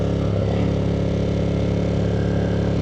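A Ducati Monster 1200 S motorcycle engine drones steadily while riding, a close, even mid-pitched hum with a constant throb and no breaks or changes in revs.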